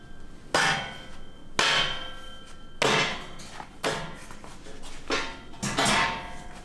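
A telescopic sled deck part is hammered into a tight fit with six sharp, separate smacks spaced about a second apart, each ringing briefly close up in a quiet space.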